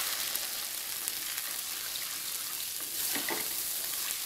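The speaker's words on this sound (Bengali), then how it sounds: "এটাও একটু ভালো করে ফ্রাই করে নেব।" Spice paste frying with poppy seed paste in a pan over a medium flame, a steady close sizzle with a faint crackle that swells briefly near the end, with no voices.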